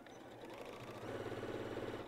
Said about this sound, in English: when you step on your foot pedal or start sewing, it starts slow